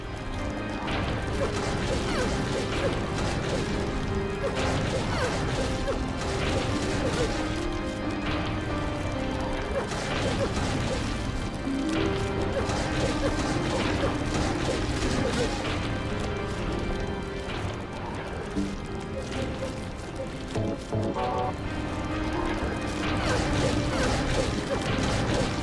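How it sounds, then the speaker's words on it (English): Melee weapon strikes in the survival horror game Silent Hill 3 on PC: repeated dull crashing thwacks and clanking mechanical noises amid a loud, busy game soundscape, with someone talking over it. "See if I can go for the final blow with the melee weapon."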